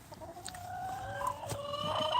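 A backyard chicken clucks and squawks in a quick run of sharp, rising calls, fairly close and growing louder toward the end, with no voices over it.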